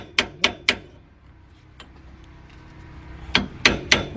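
Sharp metallic small-hammer taps on a chisel, working on a 1993 Ford F700 rear wheel cylinder, strike in quick groups of three, then a quiet pause with faint clinks, followed by another rapid run of four strikes.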